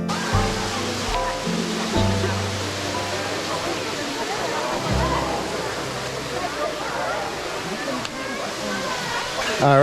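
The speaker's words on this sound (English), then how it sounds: "we're right here at the waterfall inside Waimea Valley" A waterfall in Waimea Valley on Oahu, Hawaii, gives a steady, full rush of falling water that stays constant throughout, with a voice talking over it.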